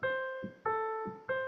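Three piano notes played detached, each sounding briefly then stopping short with gaps between, giving a choppy, cut-up feel.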